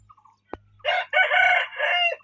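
A home-bred rooster from a yellow hen, a cross breed, crows close by in one loud, drawn-out call with a brief break, preceded by a sharp knock and faint chirps.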